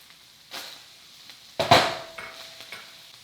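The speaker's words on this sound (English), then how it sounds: "And once you add your onions and peppers," Onions and peppers land in a pan of browned chorizo with a brief clatter and soft hiss, followed by a few light spatula scrapes and clinks, close and fairly quiet.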